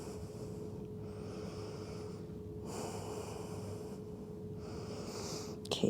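Slow, deep breaths during a yoga shoulder stretch, quiet and close, with soft nasal inhales and exhales repeating in a steady rhythm over a faint background hum.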